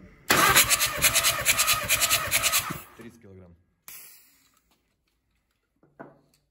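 A Skoda 1.6-litre CAY engine cranks during a compression test with a rapid, steady rhythmic churning for a couple of seconds, then stops; a voice speaks briefly afterward.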